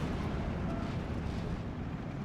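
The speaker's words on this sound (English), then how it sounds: "Mortars just coming in." Mortar shells exploding in the WWII strategy game Steel Division 2, heard as a continuous heavy rumbling roar with no distinct separate blasts.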